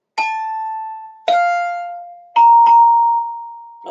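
Three clear bell tones ring out one after another, each sustained and decaying, stepping upward in pitch, with a fourth strike at the end.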